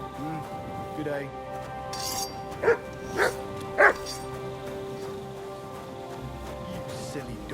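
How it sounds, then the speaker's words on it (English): Three short, separate barks from a dog in Kingdom Come Deliverance II, at moderate distance, rising from a steady medieval game backdrop with faint clinks and a low hum, and no talk during the barks. "You silly doggy."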